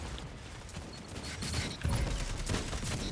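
Dire Promise hand cannon fire in the game Destiny 2 comes as several sharp shots over a dense wash of game noise, with the heaviest reports in the last second and a half.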